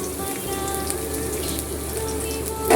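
Dried red chillies, chopped garlic and onion fry in mustard oil for a lentil dish, a soft continuous crackling sizzle close by, with a brief louder spatter at the very end.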